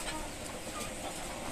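Farm chickens and roosters in a poultry shed, giving soft brief clucks close by over faint background noise.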